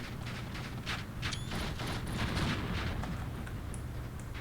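Faint, distant gunfire and artillery rumble from a WW2 real-time strategy battle, with repeated short bursts over a continuous low background.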